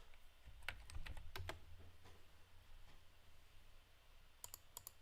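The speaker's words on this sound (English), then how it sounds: "I'm just typing in the same stuff over and over again" Computer keyboard typing in quick bursts of clicks, a dense cluster early on, then a pause and a few more keystrokes near the end, close and moderately quiet.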